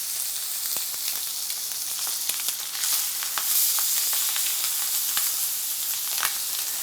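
Chicken breast laid skin side down into a hot pan, frying with a steady, dense sizzle and scattered sharp crackles and spits throughout, close and continuous with no talking.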